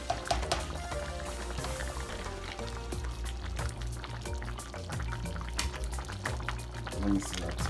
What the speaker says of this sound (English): Let the water, the gravy cook down a little bit more to make it a little bit more thicker.